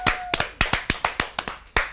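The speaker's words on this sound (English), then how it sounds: "A massive round of applause for Damien Johnson." On a Christmas studio TV show, the audience greets a guest with clapping that sounds thin and sparse: about a dozen sharp, separate claps in a loose rhythm, close and clear with no voices.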